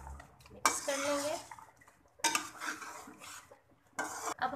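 Beef karahi stirred in a metal pan, with spoon scraping and clanking against the pot in three bursts separated by quieter simmering, and a voice speaking briefly between strokes.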